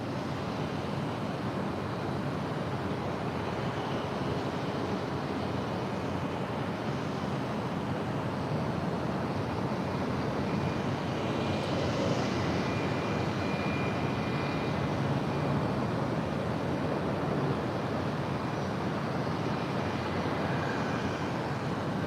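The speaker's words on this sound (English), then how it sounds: "Coletta Air, Flight 937 coming in from Anchorage. It's a 747-400. About to touch down on 25 left there on the south side." A Boeing 747-400 arriving from Anchorage and touching down on runway 25 left at LAX, heard as a steady, broad jet roar that holds for about twenty seconds, with no voices.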